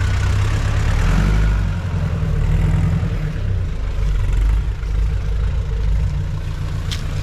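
A Mahindra Scorpio 4x4 engine idles off-road with a deep, steady rumble close by, holding an even low drone with slight fluctuations throughout.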